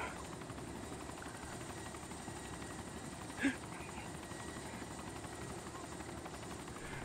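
A helicopter flies during a playful dogpile scene, giving a steady, moderately faint rotor rumble that holds through the whole stretch, with one short sharp knock near the middle.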